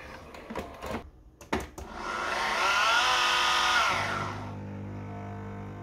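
Nespresso Vertuo Plus coffee machine running a cleaning cycle: a few clicks and knocks, then a loud steady whirring hum that builds and holds for a couple of seconds before dropping to a lower, quieter drone.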